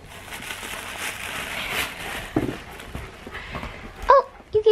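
Several dogs bark at a first-birthday gathering, with short barks and yips popping up near the end over a muffled, rustling background.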